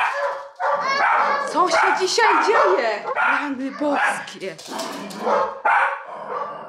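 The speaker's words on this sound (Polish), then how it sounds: "Muszę iść na dół, bo one strasznie szczekają." Several dogs bark and yip insistently indoors, loud and close in rapid overlapping bursts, while someone talks over them.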